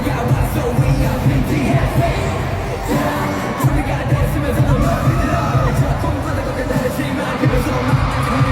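Loud, dense concert crowd at a show in Paris, cheering and screaming continuously throughout with steady babble and shouts, no clear pauses.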